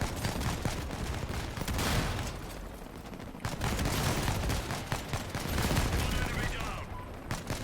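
Grenade launchers firing in the Crossout vehicle combat game during a ranked brawl: dense, loud bursts of repeated blasts and gunfire filling the scene, with a brief lull midway before the barrage resumes.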